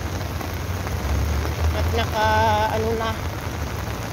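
Steady rain shower in the Philippines, heard outdoors while walking to cross a street toward a school, a dense close patter of drops throughout, with someone briefly speaking partway through.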